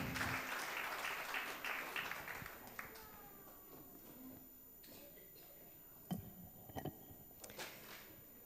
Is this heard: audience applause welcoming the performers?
yes